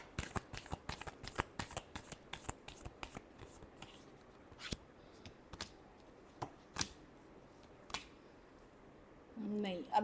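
Tarot cards being shuffled by hand, with rapid riffling bursts and crisp card snaps at close range, settling into sparser flicks as the deck is worked toward a final shuffle.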